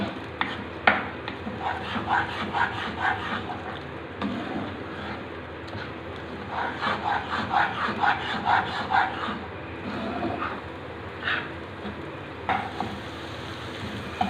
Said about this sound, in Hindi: साथ साथ चम्मच हिलाते रहें।